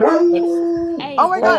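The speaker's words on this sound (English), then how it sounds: "that's a hound that's the dog." A Great Pyrenees farm dog howls in one long, steady, loud note, then breaks into shorter wavering yips, close by, with excited voices talking over it.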